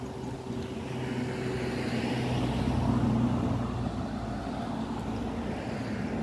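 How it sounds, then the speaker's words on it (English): A steady low rumble of passing traffic swells and fades, a car going by nearby with continuous road noise and no voices. "I can hear the car behind me"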